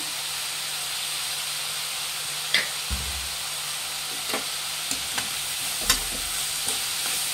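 Onions with salt frying in a pan, a steady soft sizzle with a few scattered clinks and scrapes of stirring, close and alone without talk.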